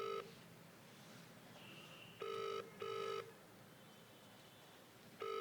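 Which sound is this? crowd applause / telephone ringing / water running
telephone ringing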